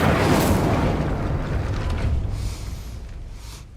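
The Incendio fire spell is cast in the video game Hogwarts Legacy, a loud burst of whooshing flame with a deep rumble that fades gradually over a few seconds, alone.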